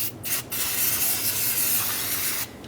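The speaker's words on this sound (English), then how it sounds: "I'm going to put a little bit of anti-seize" Anti-seize sprayed from a can onto a metal bracket during a helper spring install on a 2003-2009 Dodge RAM 2500, a short hiss, a pause, then a sustained close spray burst that cuts off.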